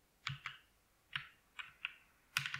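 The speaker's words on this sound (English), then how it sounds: "I just want my cute keyboard sound effect" Keyboard typing effect in a text editor: a few separate clicky keystrokes in small bursts with short pauses, ending in a quick flurry of keys, close and crisp with no talking.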